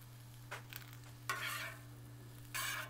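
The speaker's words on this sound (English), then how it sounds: "You can see it sizzling there" Butter sizzles on a Blackstone griddle over medium heat, heard in three short bursts of crackling hiss with a steady low hum beneath and no voices.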